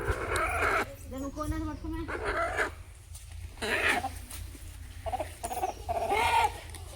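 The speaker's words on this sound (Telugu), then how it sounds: "ఇంకో కోడి" Chickens cluck in short bursts amid a busy outdoor scene at a village temple, with people talking over and between the calls.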